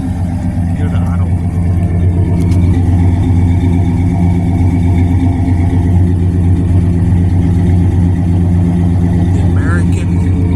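A 1968 Mercury Park Lane Brougham's 428 big block V8 idles through its dual exhaust, a loud, close, continuous low rumble that stays steady throughout.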